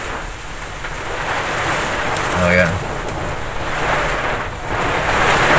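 Strong wind roars with rain blowing through, a steady noisy wash rising and falling, with a voice briefly exclaiming.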